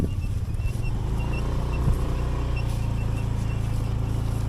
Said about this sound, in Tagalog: Maingay na yung motor ko ah.